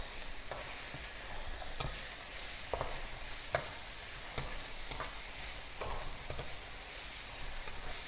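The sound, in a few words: peppers stir-frying and sizzling in a hot pan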